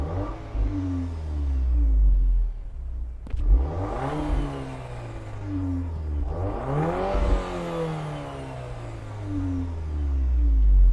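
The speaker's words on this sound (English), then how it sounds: "it is an absolutely potent and racy exhaust note" A Volkswagen Tiguan R with a 2.0 TSI engine in race mode revs hard twice, each throttle blip rising sharply then falling, with a third surge building at the end, close and loud with no talking.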